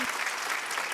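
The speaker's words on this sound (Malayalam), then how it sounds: "ഒരു സന്തോഷം കൂടി കൊടുത്തു കഴിഞ്ഞാൽ പാട്ട് വേണമെങ്കിൽ നല്ലൊരു കൈയടി." Studio audience at a comedy variety show breaking into steady, dense applause after a song, sustained clapping filling the whole moment without pause.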